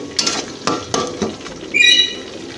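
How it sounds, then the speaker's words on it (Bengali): Kashmiri chilli masala being stirred in a cooking pan makes a few close scraping strokes with a soft sizzle underneath, followed by a bright metallic clink of utensil against pan. "তার একটু নাড়িয়ে চাড়িয়ে নিই"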